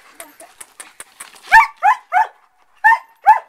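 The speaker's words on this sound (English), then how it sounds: "The dogs are kind of going wild" Dogs bark in a quick series of loud, sharp yaps close by, after some lighter clicking and scuffling sounds, while a horse is being saddled.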